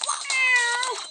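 A pet cat gives a single drawn-out meow, close and clear, lasting about a second.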